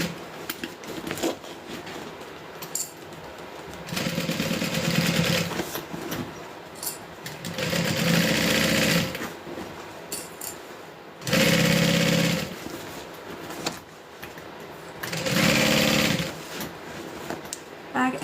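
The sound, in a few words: sewing machine stitching bag side seam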